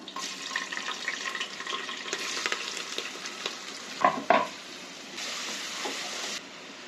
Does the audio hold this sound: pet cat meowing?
no